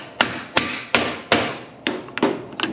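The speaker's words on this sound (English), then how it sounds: "You can give it a little whack with a hammer." A hammer whacks a tapered subframe bushing into place on a Lexus IS300 (Toyota Altezza) rear subframe, giving six sharp metallic strikes at uneven intervals, close and loud with no talking.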